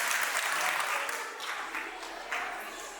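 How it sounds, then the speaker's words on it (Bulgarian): An audience at a village spring concert in Yagodovo claps for the performers, a fairly faint, steady wash of applause that dips slightly midway and swells again briefly near the end. "Аплодисменти за всички вас и за всички участници."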